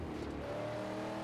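A car drives across the desert in the Mad Max video game, its engine giving a continuous, steady drone with rumbling road noise and no voices.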